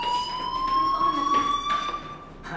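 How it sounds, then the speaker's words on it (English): A school fire alarm in the video game Life Is Strange rings as a sustained electronic tone that sweeps slowly downward, loud and continuous under faint background movement, with no talking. "Hey, do you hear that fire alarm?"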